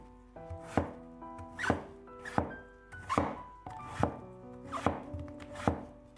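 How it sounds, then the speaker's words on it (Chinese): A kitchen knife chops through peeled, seeded winter melon into thick slices on a cutting board, making about seven firm, evenly spaced chops, each a sharp thunk with a short ring. "再将冬瓜切成厚厚的薄片"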